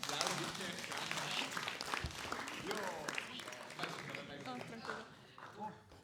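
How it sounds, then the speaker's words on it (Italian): A school audience at a student short-film screening and debate applauds, with steady clapping throughout while a voice talks over it. "Applausi."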